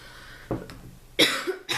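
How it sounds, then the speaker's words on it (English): Three short, sharp coughs close by, each a quick burst with brief pauses between. "So sorry for this coughing."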